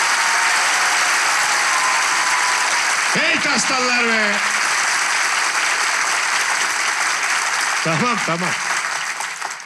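Applause from a large crowd opening a live relationship quiz show in Ankara, loud continuous clapping throughout, with brief shouted voices twice over it.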